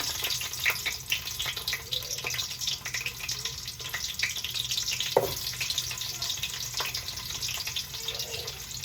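Cinnamon, cloves and garlic frying in oil for a country chicken curry, giving a steady broadband sizzle close by with scattered pops and a brief clink, no talking.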